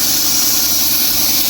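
Loud, steady hiss of compressed air blown into a car engine during an oil change to push out the remaining oil, close and continuous throughout with no speech.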